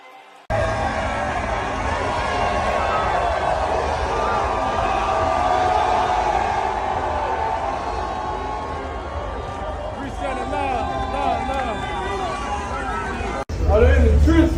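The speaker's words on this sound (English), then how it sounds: "listen to the crowd" Browns fans fill a football stadium with a sustained, dense roar of crowd noise that swells and holds at a steady loud level, ending with a sudden cut to a louder burst.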